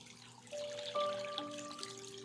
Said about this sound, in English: It's water dropping Jason Stevenson.